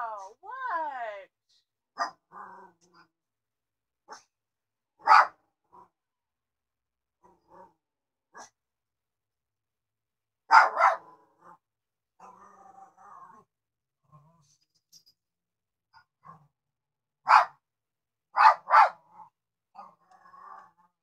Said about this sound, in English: You sound like such a big puppy, but you're not.